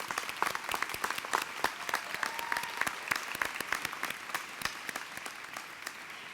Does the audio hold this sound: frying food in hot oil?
no